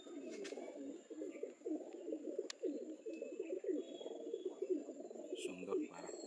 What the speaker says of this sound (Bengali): সুন্দর পায়রা, কালো পটি, কালো পট্টি পায়রা।